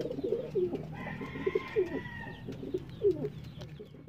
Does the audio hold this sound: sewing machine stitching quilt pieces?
no